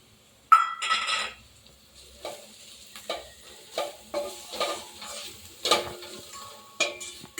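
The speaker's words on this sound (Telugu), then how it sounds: "ఇప్పుడు మనం ముందుగా పెట్టుకున్న చిల్లీ పౌడర్, ధనియా పౌడర్, కొద్దిగా గరం మసాలా, టర్మరిక్ పౌడర్ ఇందులో వేసి బాగా కలుపుకుందాం" Chilli powder, coriander powder, garam masala and turmeric being stirred into roasted garlic paste in a pan for paneer aloo butter masala: a brief sizzle, then a steady series of spatula scrapes and stirs, close and moderately loud, no talking.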